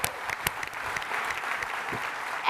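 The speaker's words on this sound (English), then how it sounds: "So let's give Jeff a round of applause." Audience applause at a political party leadership debate in Edmonton, a few sharp nearby claps over a moderate crowd clapping wash that swells again at the end.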